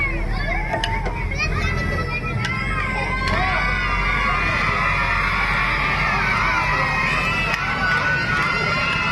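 A lively crowd with many children shouts and cheers continuously around an outdoor silambam stick-fighting display by friends from Kamuthi, a loud steady roar with excited voices rising above it.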